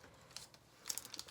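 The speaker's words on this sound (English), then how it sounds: "So you fold one tear off, you get the next one, put it on the post like so" Thin plastic tear-off film is folded and pressed onto a post, giving light crinkles that build into a couple of sharper crackles near the end, close and fairly quiet.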